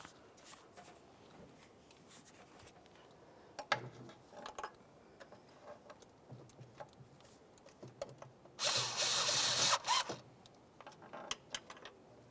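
A power tool snugs intake manifold bolts on a Nissan Titan engine, heard as a faint tick or two, then a single loud burst of about a second and a half, with scattered small clicks around it in a quiet garage.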